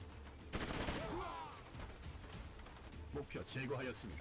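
Rapid bursts of gunfire in the turn-based tactics game Troubleshooter: Abandoned Children, a sharp volley followed by scattered shots, with a voice speaking over the action.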